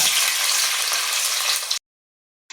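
Chopped coconut pieces fry in coconut oil with a loud, dense, close sizzle that cuts off abruptly, followed by silence and a brief return of the hiss at the end.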